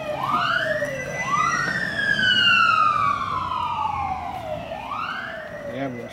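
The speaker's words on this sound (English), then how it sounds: "The ambulance coming by again." An ambulance siren sweeps past near an overpass in long, slow rising and falling wails, loud and fairly close, with a faint voice underneath.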